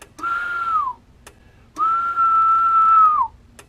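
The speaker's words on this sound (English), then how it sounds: "If I could whistle a little louder." Two sustained whistled tones from a person into a non-powered CB radio microphone, close, the second longer and steadier, each gliding down at the end, with a short gap between.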